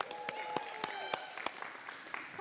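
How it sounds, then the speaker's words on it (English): A small gathering at a student church service claps for a young woman about to give announcements: sparse, distinct individual claps spaced out over a couple of seconds, fairly quiet, with faint background tones. "let's give Gracie a round of applause before she gets started"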